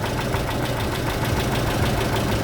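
A car engine fitted with second-generation LPG gas equipment idles steadily nearby, a continuous low rumble with a faint rhythmic knock and no voices.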